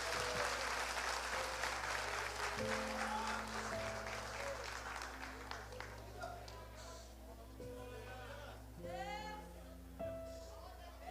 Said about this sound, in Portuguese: dando a Jesus uma linda salva de palmas